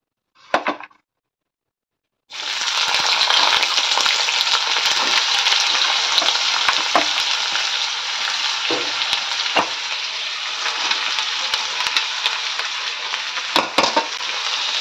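Cut potato and onion hitting hot oil in a wok, a loud dense sizzle bursting in after a short pause and holding steady, with scattered clicks of stirring.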